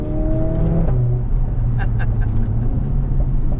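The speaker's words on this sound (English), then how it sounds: "This engine is scary, just look at it, look at the turbo, it's huge!" A Mercedes-AMG A45 S turbo four-cylinder engine idles and revs steadily, a low throaty drone with a rising pitch early on, close by and loud throughout.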